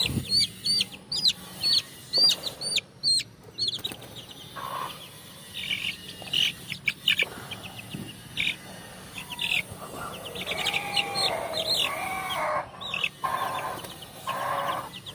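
Young chicks being shifted into a new cage chirp and peep in scattered bursts throughout, fairly close, with occasional handling knocks and rustles between the calls.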